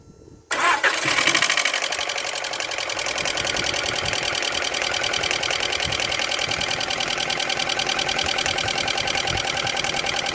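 A Skoda Fabia car engine cranks and catches, then settles into a steady, loud, close idle with a busy mechanical clatter running on without pause.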